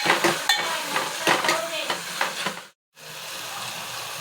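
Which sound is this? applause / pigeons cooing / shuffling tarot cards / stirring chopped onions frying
stirring chopped onions frying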